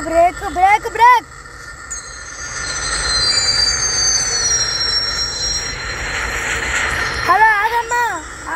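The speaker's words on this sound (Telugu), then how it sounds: "ట్రైన్ కదా, బ్రేక్ బ్రేక్ బ్రేక్." A train in the mobile game Indian Bike Driving 3D brakes, its wheels squealing in a long, loud metallic screech with rumbling beneath, while a person talks over the start and end.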